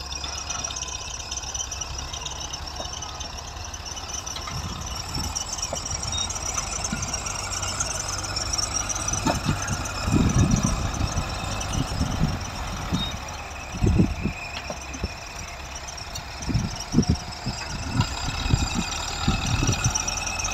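A Beluras 510 tractor drags soil across a field with a back blade, its engine droning steadily while scraping thuds and clanks of the blade break through irregularly toward the second half.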